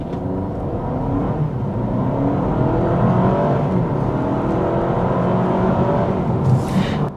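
A 2025 Honda Civic Hybrid accelerates hard with a rising engine drone broken by imitation gear-shift steps, loud and close from inside the car, with no speech over it.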